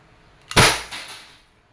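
An Umarex Glock 17 Gen 3 airgun fires a single sharp, loud crack close by, followed by a brief short-lived tail and a faint secondary impact, with no talking over it.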